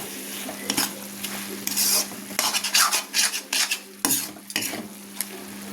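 A spoon scraping and stirring cabbage curry in a pan, with sugar added at the end; irregular bursts of scraping and clanks over a faint low sizzle, close up.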